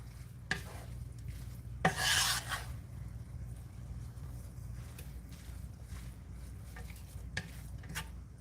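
Lumpia meat filling is stirred in a pan with a few scrapes and clanks of the utensil, one louder scraping burst, over a low steady cooking hiss, no talking.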